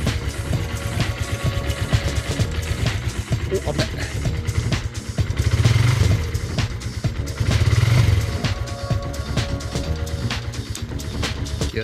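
A Suzuki GN motorcycle left idle for two months runs after starting, its single engine chugging steadily up close with two short blips of throttle, while someone talks over it.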